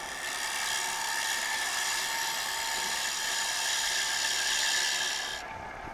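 A wood lathe spins a turning while a tool takes very light cuts, giving a steady, loud high hiss and whir that holds for several seconds, then cuts off sharply near the end.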